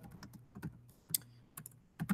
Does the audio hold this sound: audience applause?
no